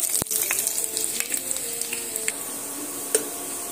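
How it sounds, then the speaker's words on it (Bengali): Chopped onion frying in hot mustard oil, a close, continuous hissing sizzle with fine crackles and a few sharper pops, no talking. "তেলের মধ্যে দিয়ে একটু নেড়েচেড়ে ভেজে নেব"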